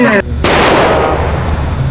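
A single loud gunshot in a roleplay video game, a sharp blast with a long rumbling decay. It follows a brief moment of talk and is heard close and forceful.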